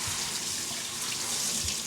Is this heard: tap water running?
yes